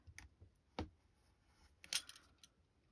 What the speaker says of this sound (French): Donc là, je vais venir couper